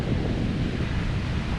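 Wind roars over open sea with heavy waves after Hurricane Iota, a loud, constant rushing wash with wind buffeting the microphone and no speech.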